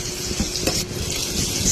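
Chopped onion and garlic sautéing in a pan, a loud, close, continuous sizzle with light stirring clatter and no voices.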